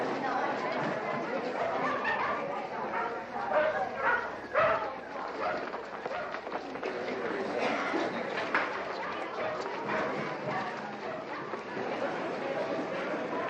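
Dogs barking at a dog show, with repeated barks and yips scattered through steady crowd chatter and announcements, a busy indoor hall sound that runs the whole length.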